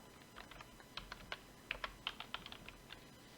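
A short run of quiet, crisp keystrokes on a computer keyboard, uneven taps typing a folder name, sounding close but faint with no talking.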